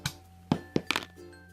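Toy cannon on a Toymax Body Wars Laser Lung playset firing, heard as a few close, sharp plastic clicks and clunks in quick succession with a faint electronic tone running beneath.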